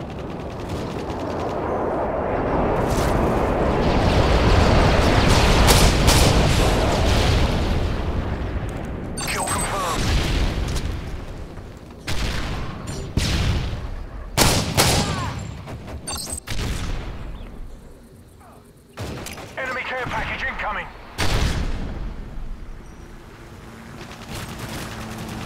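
Airstrike bombs in Modern Warfare 3 gameplay, a long roaring blast that swells and fades, then a rapid series of sharp explosive bursts and gunfire cracks, loud and close, with game voices in between.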